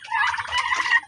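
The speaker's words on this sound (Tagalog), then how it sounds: "Baka mamayang gabi transfer natin po yung ating mga pabo" Turkeys gobble close by in a short, loud, rapid burst of warbling calls, heard alone with no voices.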